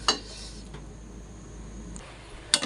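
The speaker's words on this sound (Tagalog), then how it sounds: "Halo lang po ng halo para hindi makurta yung dugo." A spoon stirs pork dinuguan, a blood stew, in a cooking pot, giving sharp metal clinks at the start and end and a fainter scrape between, over a quiet low background hum.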